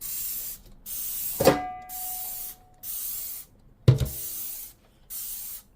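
A trigger bottle of Dawn Ultra Platinum Powerwash dish spray fires several short misty bursts, each sharp and close, with a couple of clicks and a dish clatter between them.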